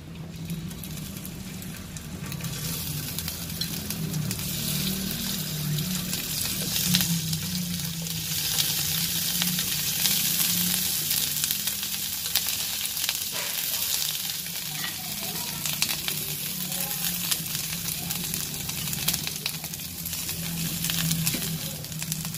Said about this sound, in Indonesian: Kita panggang satenya.